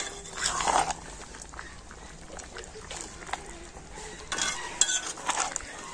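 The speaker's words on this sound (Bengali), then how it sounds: "চিকেন আর আলুটা কিন্তু খুব ভালোভাবে আমি নাড়াচাড়া করে নিয়েছি" Chicken and boiled potatoes being stirred together in a pot for chicken biryani, with a metal spoon scraping and clinking against the pot in short bursts near the start and end and softer mixing in between.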